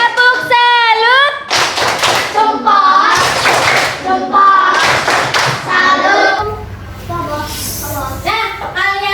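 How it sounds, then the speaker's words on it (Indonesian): A primary school class in Indonesia performs a 'tepuk salut' chant-and-clap routine for a student group. Children's voices chant in rhythm while sharp, close hand claps and taps punctuate the pattern in bursts. "Beri tepuk salut kepada kelompok 3."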